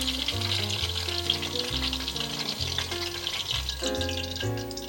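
King oyster mushrooms deep-frying in hot oil, a dense continuous crackling sizzle, close and steady, with a tonal hum running underneath.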